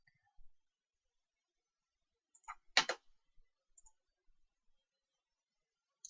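Mouse clicks at a desk while running a program: a short cluster of quiet, sharp clicks near the middle, with silence around them and one more faint tick at the end.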